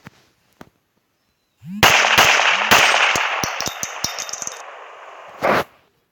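Small rifle fired in a mobile shooting game: a quick series of sharp synthetic cracks and pops, roughly a dozen in uneven rhythm, over a bright ringing sweep, with a few faint clicks before and a final loud burst.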